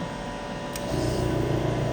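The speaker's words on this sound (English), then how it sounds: "And turn our vacuum on." A vacuum pump on an A&V Orbital X platemaker runs with a steady, close whooshing drone that gets louder and fuller about halfway through as it draws the air out. Nobody speaks.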